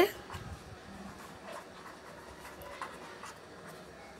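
A pen scratches faintly on paper while a maths sum is written out, in short quiet strokes against a hushed room.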